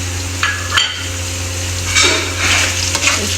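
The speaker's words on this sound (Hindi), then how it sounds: "ये ग्रीन एंड रेड चिली है, ये हम इसमें ऐड कर देंगे ऐसे।" Green and red chilies sizzle and fry in a pan alongside whole spices for a biryani base, a steady close hiss with a few scrapes and stirs of a utensil against the pan.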